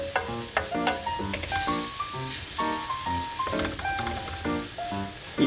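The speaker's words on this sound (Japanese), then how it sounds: "こうハーブをオイルの中に入れて炒めると" Herbs frying in hot oil in a pan for a porcini risotto, a steady bright sizzle with clattering utensil strokes and scraping throughout, fairly close.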